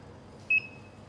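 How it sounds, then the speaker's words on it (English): A single short electronic beep from a coffee brewing timer being started, clear and close against a quiet background, followed by a faint trailing tone. "I'm going to start the timer"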